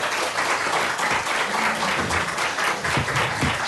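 A hearing audience breaks into steady applause, dense overlapping claps filling the room at an even, sustained level throughout, with no pauses.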